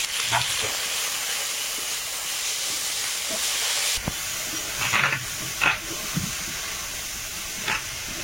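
Shrimp frying in a pan with garlic and panch phoron, a steady broadband sizzle that holds throughout, with a few soft clinks and stirring scrapes near the middle.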